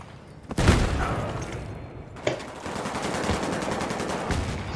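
Three heavy shotgun blasts boom at intervals over a constant background rumble, each a sharp burst followed by a rattling tail, in the video game Battlefield 3.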